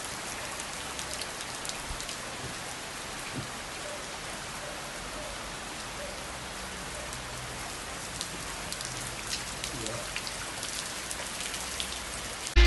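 Steady rain pours down in a constant, dense hiss of drops on hard surfaces. The sound is even throughout and no one speaks.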